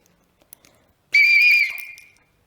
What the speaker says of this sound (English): So I'm going to blow the whistle